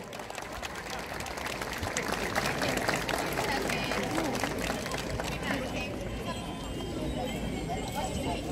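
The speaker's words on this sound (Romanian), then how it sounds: "Să-i salutăm cu multe, multe aplauze" An audience at a student May festival in Năsăud breaks into loud, dense applause that continues throughout, mixed with a murmur of crowd noise and voices.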